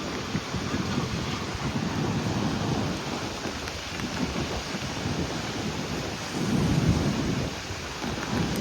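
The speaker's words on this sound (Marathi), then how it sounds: "सगळा पाऊस, वारा बघ" Heavy rain and strong wind roar at the seashore near Harihareshwar during the monsoon. The wash is dense and steady, with a louder gust-like swell late on and no voices.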